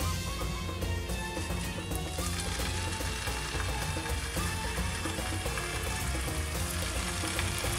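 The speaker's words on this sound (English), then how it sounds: "And we're just going to shallow fry these." Kebab patties shallow fry in hot oil with a steady, close sizzle and crackle that stays even throughout, with no talking.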